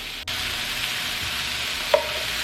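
Onions and mushrooms frying in a pan, a steady close sizzle throughout with a brief clatter near the start and a small clink just before the end.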